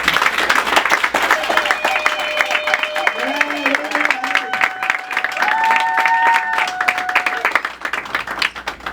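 An audience applauds at a mayor's inauguration of a media studio in Quebec City, dense sustained clapping over nine seconds with voices and some tonal sounds mixed in, tapering near the end.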